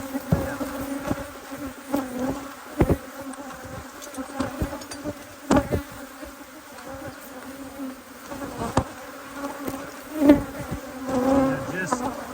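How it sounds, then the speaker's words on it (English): Dense, continuous buzzing of many bees close by, with individual insects droning past and occasional soft knocks. "Just being here with all these crazy bees"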